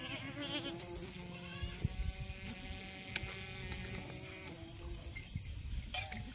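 Goats bleat at a milking pen, their calls rising over steady background noise with a persistent high-pitched hum; a few bleats stand out among fainter ones throughout.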